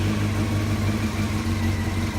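A 1991 Honda CBR 600F2 motorcycle engine running close by during a rebuild, a loud, steady mid-pitched drone with a constant hum and no talk.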